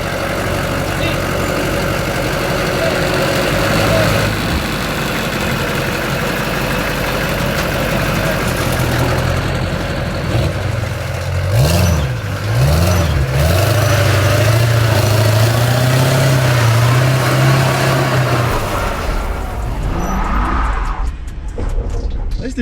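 Big-block engine of a Chevelle SS clone idling loud and close, a constant rumbling drone through the whole stretch with a couple of revving swells in the middle, and people talking over it.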